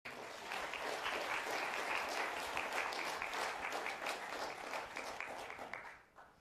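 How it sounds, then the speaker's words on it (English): An audience applauds a panel at a public discussion on water planning, a dense, steady round of clapping that carries for several seconds before fading out. "Greg and Sharlene, and our moderator, Mike, another round of applause, please."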